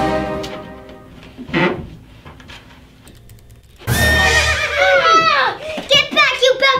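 A voice imitates a horse whinny from behind a horse mask in a kids' superhero cartoon, a loud, wavering, high neigh that bursts in after quieter moments, with talk around it.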